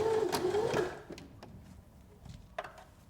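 A sewing machine runs a straight stitch on soft jersey knit fabric, a brief close whirring burst at the start that stops within a second, followed by quiet clicks and handling noises.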